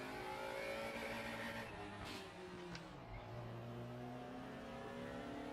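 Race car in the RaceRoom sim racing game, its engine revs letting down and droning low with whirring tones that sag and then climb again, steady and fairly quiet throughout.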